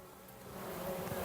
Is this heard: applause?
no